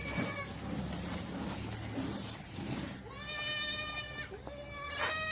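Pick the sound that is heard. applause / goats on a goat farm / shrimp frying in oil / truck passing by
goats on a goat farm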